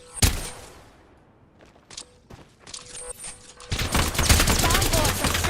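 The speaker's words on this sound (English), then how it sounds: "Fanboys are shooting at me" Video game gunfire aimed at the player: scattered sharp shots and clicks come first, then a dense, loud volley of rapid shots builds and keeps going near the end.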